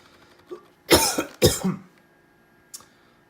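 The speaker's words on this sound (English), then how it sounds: "I apologize for the cough" A few sharp, close coughs in a quick burst, preceded by a small throat sound and followed by a faint click, in an otherwise quiet room.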